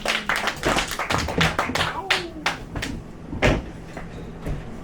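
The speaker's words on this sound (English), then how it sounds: "Clap it up, Obeid." Small open mic comedy crowd giving a short burst of applause for a comedian, scattered sharp claps from nearby, with a voice speaking over the clapping.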